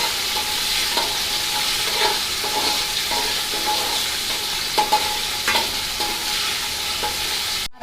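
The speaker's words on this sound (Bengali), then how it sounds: "আদা একটু লাল লাল ভাজি হয়ে গেছে।" Chopped ginger fries in hot oil in a pan with a steady, bright sizzle, broken by repeated scraping and clinking strokes of a spoon stirring it, close up and without talk.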